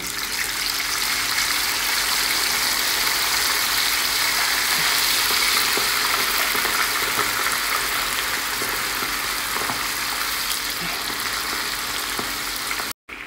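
Fish frying in a pan for a seafood dish: a steady, loud broadband sizzle and crackle of hot oil runs throughout with scattered pops, ending abruptly.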